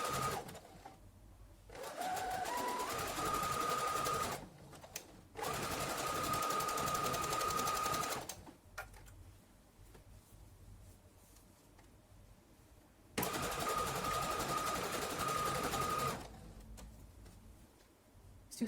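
A sewing machine overcasts a seam on a button-up dress, running in three quick bursts of rapid mechanical stitching separated by quiet pauses, heard close and fairly soft.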